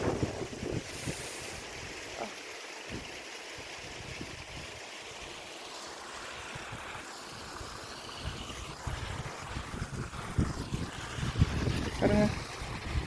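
Strong wind blowing across the Meghamalai hills, buffeting the microphone in a continuous rough roar that swells louder toward the end, with faint voices in the background.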